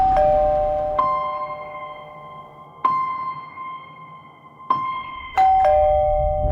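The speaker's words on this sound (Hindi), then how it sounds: "उस आदमी तक हमें ले जाती जिसने उस रात जयदेव प्रांजपे के घर की घंटी बजाई थी।" Three two-tone ding-dong chimes ring out in sequence, each a bright falling pair of notes with a lingering ring, the last one clipped by a fresh strike.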